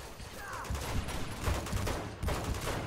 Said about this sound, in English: I'm back and I'm getting shot at.